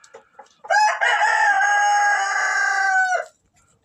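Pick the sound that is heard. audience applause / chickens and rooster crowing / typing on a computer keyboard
chickens and rooster crowing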